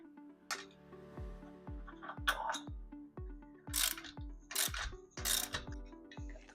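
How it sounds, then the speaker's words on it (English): A bolt being worked out of a pulley on a cable tower, with a rapid run of sharp metallic ratcheting clicks and ringing clanks, close up with scraping bursts, no talk. "All right, so we got this bolt out of here."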